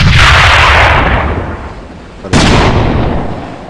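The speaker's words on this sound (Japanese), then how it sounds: "手榴弾投擲。" A thrown grenade detonates in the online shooter AVA. A very loud, close blast with a long, fading roar is followed by a second sharp explosion, and a voice briefly speaks.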